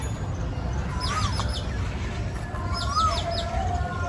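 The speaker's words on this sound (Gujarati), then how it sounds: "સરસ મજાની કોયલ બોલે જો આમાં." Two rising-falling Asian koel calls sound a few seconds apart, clear over a steady low rumble of wind or background noise.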